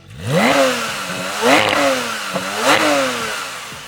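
A Porsche GT3 engine revs hard three times in quick succession toward its 9,000 RPM limit, each surge climbing sharply and dropping back, loud and close with no voices.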